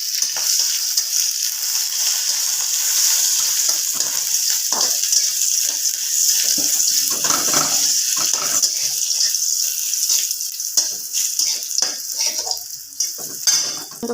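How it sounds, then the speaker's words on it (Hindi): Garlic and dried chillies sizzle in hot oil in a wok, a loud, continuous crackling hiss broken by scraping and clinking of a utensil against the pan. "मु तेल गरम छाड़ी कढ़ई से दी दाना रसुण आउ गोटे शुखला लंका कंचा लंका"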